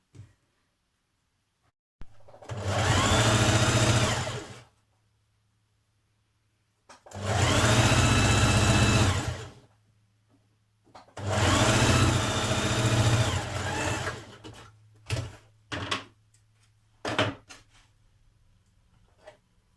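A sewing machine sews a 1.5 cm seam on a Burda 6240 summer dress in three separate runs of about two seconds each, loud and close, with quiet gaps between them and a few short clicks and taps at the end.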